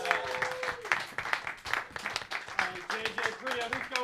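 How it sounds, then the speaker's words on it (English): Audience applause at a New York roast battle comedy show, steady clapping filling the room throughout while a host talks over it. "start clapping right now"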